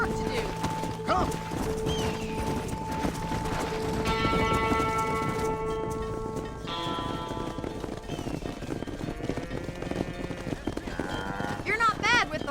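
Horse hooves clip-clop steadily while cattle are herded in the Red Dead Redemption video game, the trotting rhythm running under speech, a neigh, bell tones and game music.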